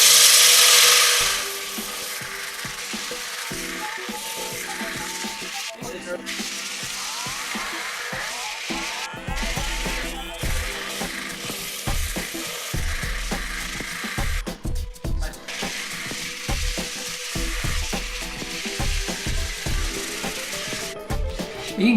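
Wood lathe spinning a hackberry bowl at around 700 RPM while 80 grit sandpaper works the surface: a continuous whirring drone with rough sanding hiss, broken by repeated short bursts and dropouts as the paper touches and lifts.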